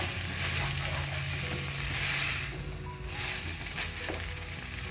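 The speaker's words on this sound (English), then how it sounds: "give this a nice good stir and let it simmer for a moment" Baked beans simmering and sizzling in a pot, with a spoon scraping and stirring through them in an uneven, continuous rhythm, close and steady with no talk.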